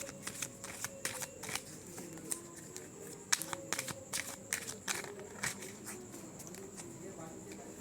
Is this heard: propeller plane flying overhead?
no